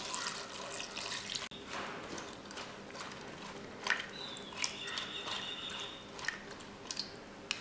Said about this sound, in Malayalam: വേകുന്നതിനാവശ്യമായ വെള്ളം ഒഴിച്ചു കൊടുക്കുക.